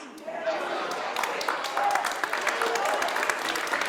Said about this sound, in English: is that the pastor back there clapping his hands?